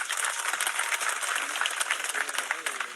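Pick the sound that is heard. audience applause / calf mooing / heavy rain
audience applause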